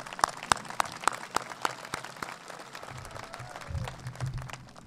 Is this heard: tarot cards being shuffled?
no